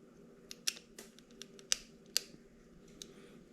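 A blade scores material in a line along a frame, making a few sharp, scratchy clicks and short scrapes at close range, with no voices.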